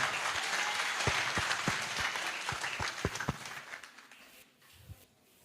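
Audience applause at a public dialogue forum in a beach hotel in Nyali, steady and fairly loud with sharp individual claps standing out, thinning and fading toward the end.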